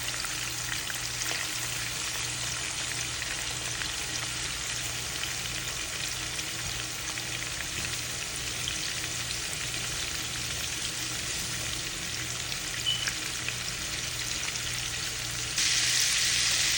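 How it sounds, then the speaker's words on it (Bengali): Shrimp frying in a pan during a home recipe, giving a steady, even sizzle with a low hum underneath, continuous throughout and slightly louder at the very end. "এখন চিংড়ি মাছের এক সাইড বাজি হয়ে গেছে, তো আমি আর এক সাইড বাজি করতাম"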